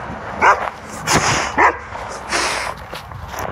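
A dog barks in several short, close bursts, three sharp barks in quick succession followed by a softer yip, with a steady background hiss between them.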